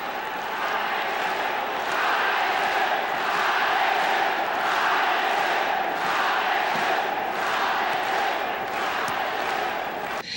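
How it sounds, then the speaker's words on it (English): Large arena crowd at a Pride Fighting Championships mixed martial arts event keeps up a loud, steady roar with rhythmic swells like a chant, continuous and reverberant throughout. "Otsuka pounds away at Renzo's side and the crowd begins to chant again."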